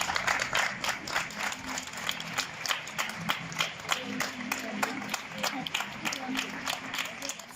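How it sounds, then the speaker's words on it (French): Doctors and neighbours in Spain clapping together outdoors in the evening, a steady patter of many hands with sharp individual claps standing out, voices murmuring underneath throughout. "Ils descendent chaque soir pour applaudir avec les autres."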